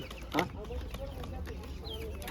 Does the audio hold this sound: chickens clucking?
yes